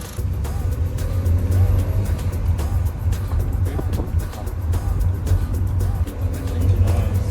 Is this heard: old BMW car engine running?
yes